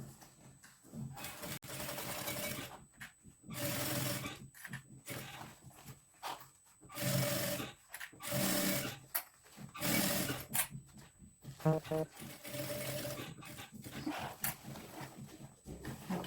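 Sewing machine stitching the edge of fabric for a shampoo holder, running in repeated bursts of rapid whirring separated by short pauses and stops, fairly faint and close, with no speech.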